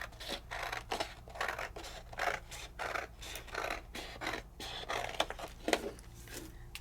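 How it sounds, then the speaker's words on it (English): Scissors snip through paper in a steady series of crisp cuts, close and fairly quiet, with a faint low hum in the background. "I'm just going to cut right down the side."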